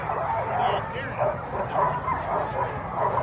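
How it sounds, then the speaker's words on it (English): Sled dog team at the start line of the Fur Rondy sled dog race on Anchorage's 4th Avenue, a chorus of yipping and barking dogs under crowd babble and a commentator's voice. "That's what it looks like looking down a sled dog team."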